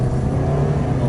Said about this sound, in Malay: engine mengaum ECVT mengaum